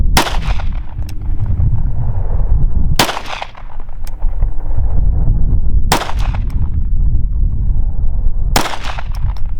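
Handgun shots fired at a shooting drill, four sharp loud reports spaced about three seconds apart, each with a ringing range echo over steady background rumble.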